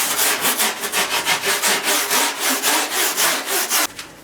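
Rhythmic sanding strokes rubbing along the rail of a foam surfboard blank to take off the edges, loud, close and steady, about a dozen back-and-forth passes, then cutting off abruptly near the end.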